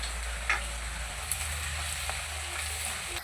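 Onions sizzle steadily in a hot pan for beef curry, a constant close frying hiss with a few faint stirring clicks and no talking.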